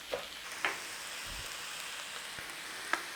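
Minced beef and onions frying in a pan, a soft continuous sizzle with a few crisp pops and taps of the utensil scattered through, no voices.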